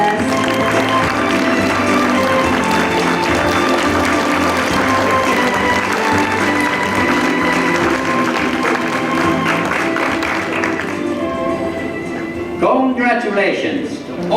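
Applause rises from the crowd at a photography award ceremony, broad clapping blended with music and a busy hall, carrying on at a steady level before thinning near the end as a voice comes in.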